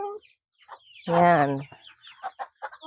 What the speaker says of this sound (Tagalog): Mga manok namin, naghihintay na sa amin dito.